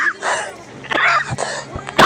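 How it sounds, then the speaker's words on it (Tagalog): A person coughs and sputters while eating a meal of rice and bulalo, a few harsh bursts with a throat-clearing sound close to the mic, with a louder cough at the end. "Excuse me po, inuubo talaga."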